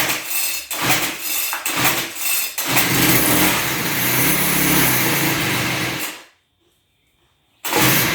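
Gas string trimmer engine pulled and cranked after priming, a rough broadband roar with sputtering bursts that surges for several seconds, cuts out into a brief silence, then catches again.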